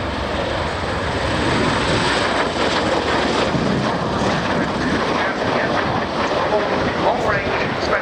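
A CV-22 Osprey tiltrotor at an airshow transitions to forward flight, a loud, steady, broadband rotor and engine roar that fills the whole stretch without a break.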